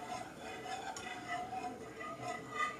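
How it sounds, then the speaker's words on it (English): A utensil clinks and scrapes softly against a pot as milk is stirred gently for chocolate pie filling, a faint steady metallic stirring with small chinks over quiet kitchen background. "No, you're stirring. With the milk."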